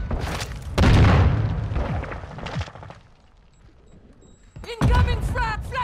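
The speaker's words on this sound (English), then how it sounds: "Throwing a stun grenade." A stun grenade goes off during a Modern Warfare 2 online match. Two loud, heavy booms land several seconds apart with a quieter rumbling gap between them, and players' voices talk over the blasts.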